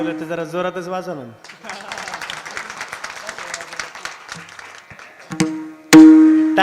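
Brief burst of audience clapping at a Marathi spiritual discourse, starting after a short sung phrase and fading out, with a sustained harmonium-like tone and talk at the end.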